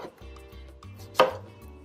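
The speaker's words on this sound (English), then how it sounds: "Now I'm just going to cut it into slices." A knife cuts slices from an acorn squash on a board, with a few soft thuds and one sharper, louder chop near the end, heard close and alone.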